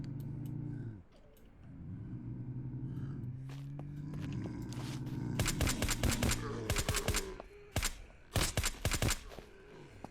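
Gunfire from a 9mm weapon in the zombie survival game Surroundead, a run of sharp shots mostly clustered late, over low rumbling game ambience and engine-like drone.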